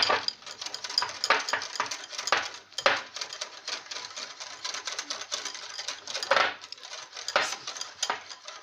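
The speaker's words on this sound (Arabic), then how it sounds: "دابا نبقاو نحركو ما نوقفوش يدنا" Dense metallic clinking and scraping of a whisk stirring an egg mixture in a pot for a Moroccan dessert, fast and continuous with irregular bursts, close and fairly loud with no talk.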